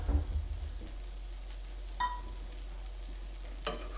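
Food sizzles and crackles steadily in a pan at close range, with faint stirring scrapes of a utensil across the family cookware and no talking.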